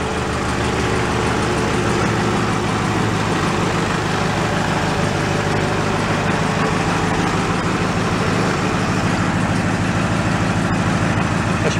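A Snapper riding mower engine idles steadily and loudly up close, a continuous low rumble with a constant drone that never changes pace.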